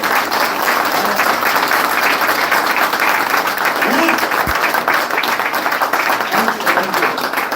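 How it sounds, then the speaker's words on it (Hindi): Loud, sustained applause from a large crowd, dense steady clapping filling the whole stretch with no pauses. "इसलिए इनके लिए जोरदार तालियां होनी चाहिए"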